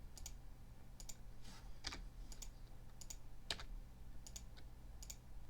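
Quiet, sharp keystrokes on a computer keyboard while coding a Hangman game, single taps spaced irregularly over a steady low hum, with no talking.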